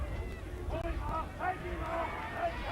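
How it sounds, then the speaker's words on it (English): Crowd noise at a 1986 amateur Australian rules football grand final, Collegians versus North Old Boys, as a steady babble of shouting spectators with rising cries, heard from a distance. "Cries from the crowd to take him off."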